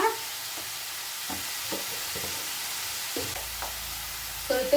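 Raw plantain pieces frying and being stirred in a pan, a steady low sizzle with soft scraping strokes of the spatula at irregular intervals, close and fairly quiet, no talking.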